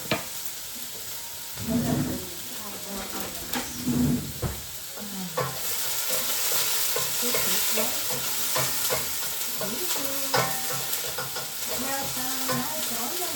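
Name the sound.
onion frying and being stirred in a pan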